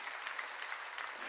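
A church congregation claps during a sermon, a brief, steady patter of applause heard faint and somewhat distant in the hall, with no voice over it.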